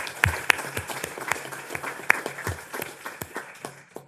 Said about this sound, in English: Let's give a great round of applause for our panelists